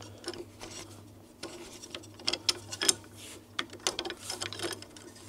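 Small screw being threaded into an F3 motor by hand, soft irregular clicks and scraping ticks close up against a faint steady hum, no talking.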